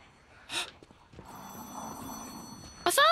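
In the video game Lies of P, a telephone rings: an old-style bell trill under a low background hum, with a short voiced exclamation before the ring and a brighter ring burst near the end.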